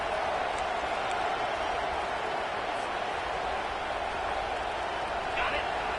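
Steady roar of a packed football stadium crowd during a first-and-goal play, a dense continuous wash of noise with a commentator's voice over it.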